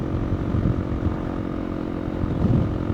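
A Honda CRF300L single-cylinder engine chugs steadily at low speed while riding in first gear, a close, continuous rough drone with slight surges in throttle and no talk over it.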